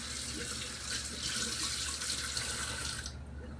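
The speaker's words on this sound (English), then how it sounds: "always rinse it so you don't have a mess on your second blend" Water streams from a kitchen tap to rinse a Ninja blender jar, a steady close hiss of running water that cuts off sharply just before the end.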